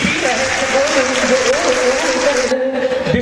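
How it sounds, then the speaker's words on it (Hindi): An audience claps in a dense, steady burst of applause, loud and sustained, with a voice singing or speaking over it before the clapping breaks off near the end. "ताली ढंग से बजानी पड़ेगी।"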